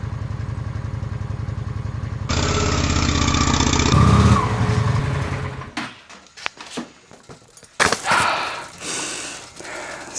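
A Shadow motorcycle engine runs steadily with a low idling rumble, then grows louder as it revs, and drops off into scattered clunks and wind noise near the end.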